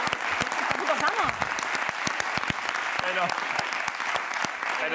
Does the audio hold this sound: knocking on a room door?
no